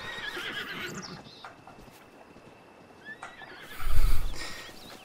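In Zelda: Breath of the Wild, a horse's hooves clop lightly and a loud, close whinny rises near the end, over soft game ambience.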